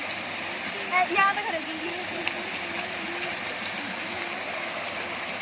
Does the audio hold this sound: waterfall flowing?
yes